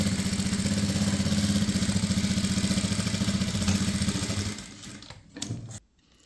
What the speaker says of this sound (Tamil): ஓட்டி விட்டதுக்கப்புறமா ஃபுல்லாக 1 இன்ச்சுக்கு தையல் போடணும்